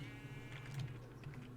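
A short Minecraft sheep bleat sounds over a steady droning hum, brief and fairly faint.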